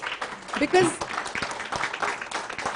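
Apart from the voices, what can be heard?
audience applause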